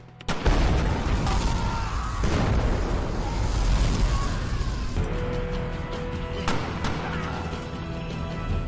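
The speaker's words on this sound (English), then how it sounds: "Hit it. Grenade bomb." Grenade blast in a film action scene, a loud broadband boom and crash that fills the whole clip with rumbling debris and a sustained roar, fading into a lower ringing tail.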